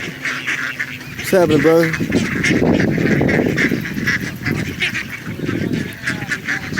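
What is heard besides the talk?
ducks and geese being fed at a waterside park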